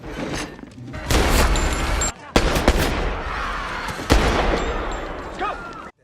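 Several sharp, booming gunshots crack out in sequence in a scene from the film Collateral, amid a noisy, chaotic action soundtrack, with heavy low rumble between blasts.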